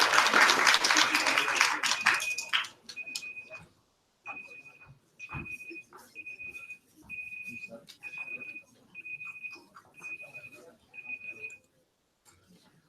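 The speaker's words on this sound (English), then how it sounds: "let's have a round of applause for them" A short burst of dense audience applause fills an auditorium, then fades into a steady series of regular electronic beeps spaced about a second apart.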